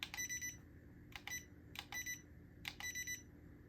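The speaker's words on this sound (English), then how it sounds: "3 beeps." A $20 Black Panther toy drone's remote control gives short electronic beeps in paired bursts, repeating several times over a low background hum, fairly faint and close.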